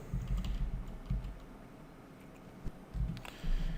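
Keys clatter on a computer keyboard in short bursts of quick taps separated by brief pauses, close and moderately loud with no talking.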